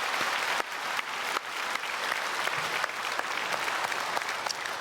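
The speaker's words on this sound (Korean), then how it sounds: "박수하겠습니다." A church congregation claps together during a Sunday worship service, a dense, steady burst of applause filling the sanctuary for several seconds without letting up.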